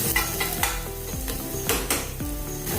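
A simple spiced stuffing for bakery-style patties sizzles in a pan as a spoon scrapes and stirs it, steady frying hiss with repeated clinks of utensil on metal, close and without talk.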